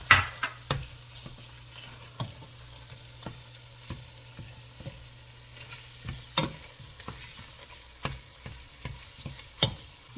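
Tomato paste sizzles faintly in a pan for a stew, with repeated sharp scrapes and knocks of a utensil stirring it at an irregular pace, close by and with no talking.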